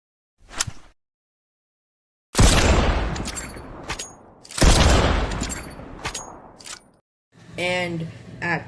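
Mammoth pistol shots in Fortnite: two loud, booming blasts a couple of seconds apart, each with a rolling tail, followed by a metallic reload clatter, with a short blip near the start.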